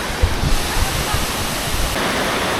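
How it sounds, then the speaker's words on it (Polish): A waterfall roars nearby in a loud, steady wash of falling water, with a few dull bumps of handling noise near the start. "Bardzo fajny ten wodospad."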